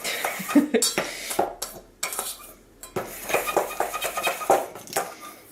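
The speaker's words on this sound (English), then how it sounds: "We're going to add our liquid and then whisk that all together" Whisk beating liquid into a bowl of mint donut batter made with powdered sugar and cocoa powder, giving quick uneven clinks and scrapes against the bowl with short pauses, close and fairly loud.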